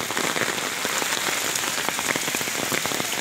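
Heavy rain pours down in Kotdwara, a dense, steady hiss of drops drumming on surfaces with scattered sharper splats, loud and continuous throughout.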